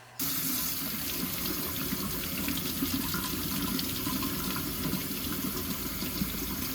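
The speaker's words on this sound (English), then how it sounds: "And then I'm going to take it to the sink and wash it off." Tap water runs steadily into a sink as etching cream is rinsed off a wine glass, a constant close splashing rush that starts abruptly and continues without pause, no voices.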